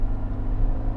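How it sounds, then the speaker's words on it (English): Engine note of a 2019 Suzuki Jimny under full throttle in third gear at about 4,000 rpm, a steady low rumbling drone heard from inside the cabin with no voices. "It's not the nicest sounding engine, which is a shame"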